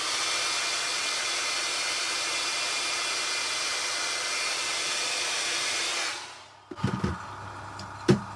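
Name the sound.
hair dryer blowing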